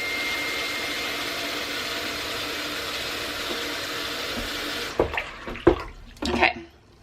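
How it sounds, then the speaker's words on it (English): Lukewarm tap water pouring steadily into a bucket for cleaning synthetic paint brushes, a continuous rushing stream that stops partway through, followed by a few close splashes and knocks. "fill in my bucket, so just room temperature, lukewarm water"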